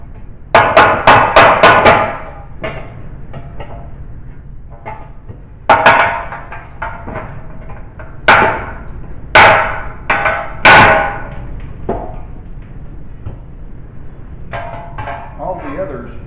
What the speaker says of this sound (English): I'm just going to simply put my dolly in there and just lightly hammer this